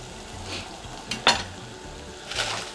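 Garlic stir-fried in a wok: a steady sizzle beneath repeated scraping strokes of a utensil against the pan, with a couple of sharper metallic clanks, close and moderately loud, no talking.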